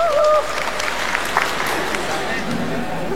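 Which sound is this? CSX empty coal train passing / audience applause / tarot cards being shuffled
audience applause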